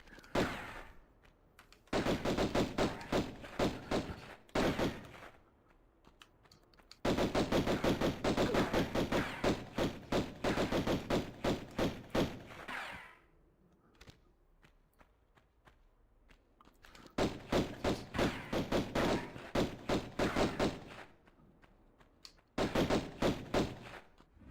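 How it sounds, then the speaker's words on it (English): Bursts of rapid video game gunfire from enemies shooting at the player in a 1996 Tomb Raider remaster, loud and repeated in long volleys separated by brief quieter gaps, with no talk. "someone else shooting at me again?"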